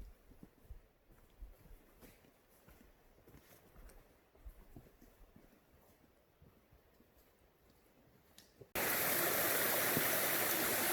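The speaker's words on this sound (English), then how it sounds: "you come to this real nice stream, creek. It's flowing real good." A forest stream in Talladega National Forest near McDill Point, flowing strongly, enters as a sudden loud, close rush of water after a long quiet stretch of faint outdoor sounds.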